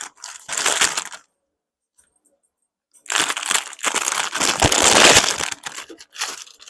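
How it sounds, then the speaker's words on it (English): Fresh spinach from a whole bag being chopped on a board, heard as two loud bursts of crisp crunching and crinkling leaves, separated by a short quiet pause, close up with no talk. "We just got to cut us down some spinach now."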